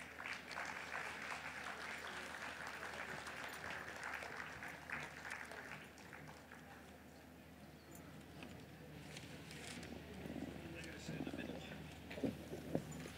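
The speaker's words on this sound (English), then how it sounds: "Let's welcome the panel on stage with a huge round of applause." A seated audience at the Jaipur Literature Festival gives quiet, distant applause as a panel takes the stage; the clapping thins midway and people talk softly throughout.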